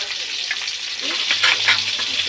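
Bitter gourd pieces coated in turmeric fry in hot oil, a dense continuous crackling sizzle with soft stirring scrapes, close and fairly loud, with no talking.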